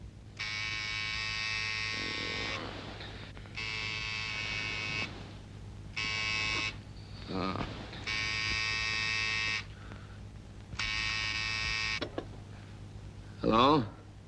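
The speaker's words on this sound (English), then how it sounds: "Just reach over and very firmly press the buzzer." An electric buzzer sounds in repeated long bursts, about five separate presses of a loud, steady buzz with short gaps between them, set in a 1942 film scene with brief voices in between.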